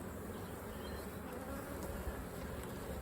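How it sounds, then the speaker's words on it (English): Honey bees buzzing around an opened hive during a colony split, a dense, steady, close drone of many wings that holds evenly throughout with no talking. "Don't need to get every bee off, just I want to make sure I haven't got the queen."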